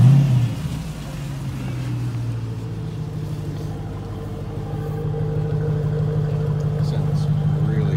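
A 2012 Jeep Grand Cherokee SRT8's exhaust rumbles steadily at idle with a brief rev at the start, deep and close, with faint voices underneath.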